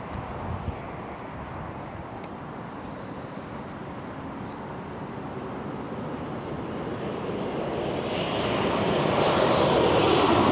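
A fixed-wing airliner takes off at Toronto Pearson airport, its engine roar steady at first, then swelling louder and brighter toward the end, with wind noise and no talk.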